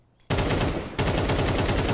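Loud, rapid automatic gunfire erupts suddenly and rattles on in dense bursts during a Counter-Strike pro league match, with a brief dip before a second sustained volley.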